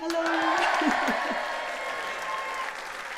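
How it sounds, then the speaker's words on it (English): Audience applauding a guest's introduction at a livestreamed event, a full burst of clapping with a few voices and cheers mixed in, easing slightly over a few seconds. "round of applause indeed"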